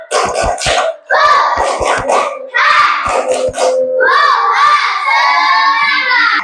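A classroom of children claps a rhythmic spirit chant led by their teacher, sharp bursts of hand claps in quick patterns with loud shouting young voices filling the gaps and ending in a sustained cheer.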